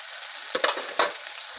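Powdered spices fried into a cooked spice paste in a pan for a bitter gourd and fish dish, a steady close sizzle with two or three quick scraping stirs over about a second and a half.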